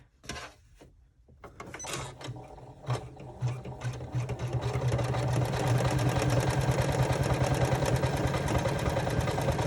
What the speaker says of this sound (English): I'm going to run the second row of top stitching